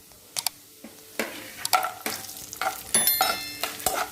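Cashews and coconut pieces fry in hot ghee for a rice payasam, with repeated sharp scraping stirs and clinks over a steady close sizzle.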